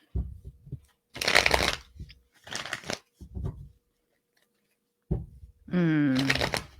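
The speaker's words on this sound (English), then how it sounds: "Let me pull some cards for you" Tarot cards are shuffled close by in several quick riffling bursts separated by short pauses, with a short stretch of voice near the end.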